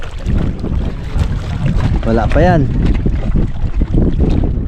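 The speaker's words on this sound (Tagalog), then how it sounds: "sobrang lakas ng hangin sa labas" Loud, constant wind roars and buffets the microphone throughout, with a brief spoken phrase partway through.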